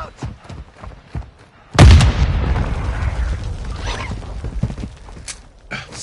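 A frag grenade explodes in Call of Duty MWII, a sudden heavy blast after quieter game noise, followed by a long rumbling roar and scattered pops, loud and close.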